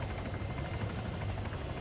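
An Arma 3 helicopter tilts while hovering at low speed, its rotor producing a loud, steady, close thrumming drone with an even rhythmic beat and no voices.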